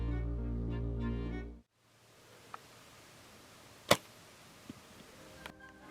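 Bow arrow loosed during a mule deer hunt in Saskatchewan: a single sharp, loud crack of the release and strike near mid-clip, with faint ticks after it and a low hum before it, in an otherwise quiet outdoor setting.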